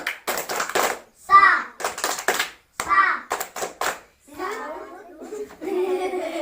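A class of fourth-grade children claps a rhythmic "tepuk salut" chant in an Indonesian classroom, with sharp rapid hand claps mixed with their chanting voices, followed by a teacher speaking.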